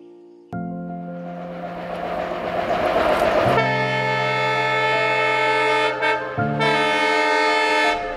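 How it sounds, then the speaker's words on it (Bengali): A train horn sounds loud and sustained in long blasts, briefly breaking off and resuming, over the rumble and rattle of a train passing through dense forest in the Dooars, North Bengal. "পথে হঠাৎ ঘন জঙ্গলের মধ্যে ট্রেনের দেখা।"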